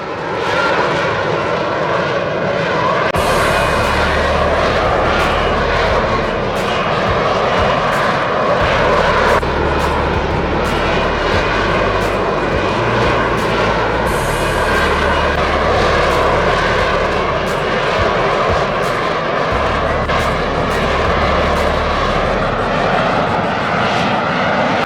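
A Lockheed F-35B Lightning II stealth fighter's jet engine roars loudly and continuously, a dense sustained rumble with shifting low tones and no talk over it.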